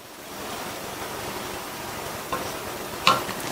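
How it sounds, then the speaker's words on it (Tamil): Semolina simmering in milk with saffron, stirred in a pot: a continuous soft bubbling hiss with a couple of light scraping knocks from the spoon near the end. "குங்குமப்பூ சேர்த்துட்டு நல்லா இந்த மாதிரி ஒரு 2 நிமிஷத்துக்கு கிண்டி கொடுத்துட்டே இருங்க"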